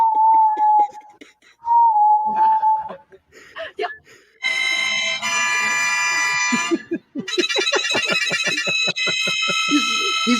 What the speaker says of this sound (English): It's a whistling walrus.